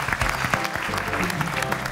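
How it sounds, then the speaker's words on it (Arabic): TV show studio audience bursting into applause, a loud, busy patter of many hands clapping continuously with some voices mixed in. "تصفيقة حرة"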